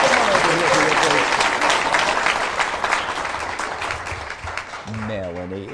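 A studio audience at a game show applauds and cheers loudly for a contestant, a dense steady roar that gradually thins, with a voice starting to talk over it near the end.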